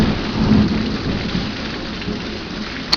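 A thunderstorm with heavy rain and hail, a dense, steady hiss of rain pounding close by under a low rumble of thunder, with a sharp crackle near the end.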